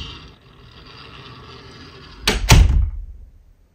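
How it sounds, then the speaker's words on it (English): Door closing with two sharp thuds in quick succession near the end, loud and close after a quiet stretch of soft room noise. "Close the door."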